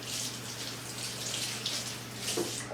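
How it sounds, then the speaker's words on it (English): Hands rinsed under a running kitchen tap, a steady soft hiss of flowing water with gentle splashing as the hands move, close and fairly quiet, no voices. "Now I'm going to just give my hands a quick rinse."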